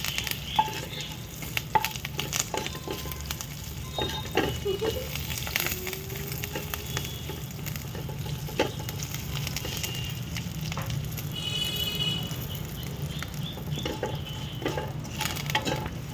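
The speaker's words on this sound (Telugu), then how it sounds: "చక్కగా సిమ్లో పెట్టుకొని వేయించుకోవాలి ఇవి" Dried chillies, mustard seeds, cumin and curry leaves are tempering on a low flame, giving a dense, continuous close sizzle with scattered crackles and pops and the occasional scrape of a spoon.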